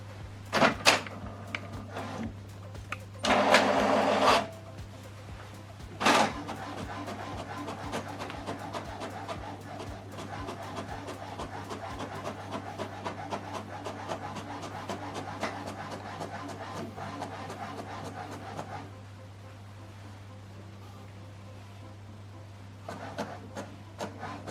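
HP Deskjet 4120 printer printing a page, a steady mechanical whir with rapid ticking and clicking of the feed, a few louder bursts of motor grinding early on, heard close over a constant low hum.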